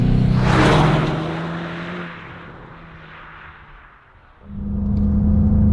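A 300 hp VW Golf GTI Clubsport 8 hot hatch drives a country road; its engine note swells, eases off into a quieter drone, then surges loudly again near the end.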